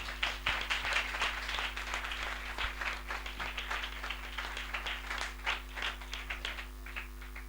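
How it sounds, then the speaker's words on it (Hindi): An audience at a church spiritual assembly gives a round of applause, a sustained patter of many hands over a constant low hum, moderately faint rather than thunderous. "हम जोरदार तालियों से उनका स्वागत करें।"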